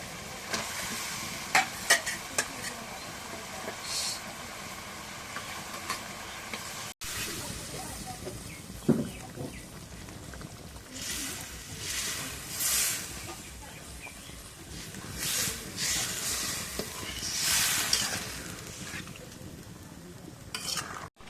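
Fish sizzles and hisses in a hot pan, a steady frying crackle running throughout with occasional stirring scrapes and brief bursts of louder spitting.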